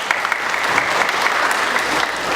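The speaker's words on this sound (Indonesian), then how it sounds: "Tepuk tangan untuk Rumah Sakit Zubir Mahmud." People at a free cleft-lip surgery charity event in East Aceh applaud a hospital, a brief, loud burst of continuous clapping from many hands with no talk.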